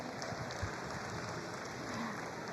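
Steady applause from an audience at a county 4-H and FFA fair swine showmanship event, cheering the champions of each age group, a continuous dense patter with no talk over it.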